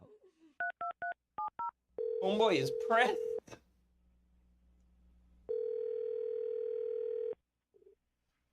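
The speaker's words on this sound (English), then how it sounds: "I'm going to dial the phone number right now" A telephone number is keyed in as a quick run of DTMF beeps, then a steady tone sounds while a voice speaks over it, followed by a long unbroken dial-style tone and a short final beep.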